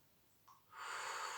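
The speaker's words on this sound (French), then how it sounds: "Et on inspire, on gonfle le ventre." A person takes a deep breath in through the nose to fill the belly with air, starting with a short sniff and then a steady, rising airy inhale. It is close and soft, with no talk, during a gentle vocal warm-up.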